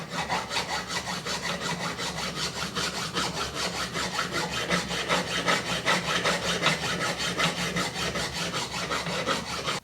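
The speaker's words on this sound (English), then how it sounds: "file the inside here to make sure that all the inner dimensions meet up exactly." A file works the inside of a bracket on a DIY plastic injection mould frame, giving a steady, close, rhythmic rasping of quick back-and-forth strokes with no pauses.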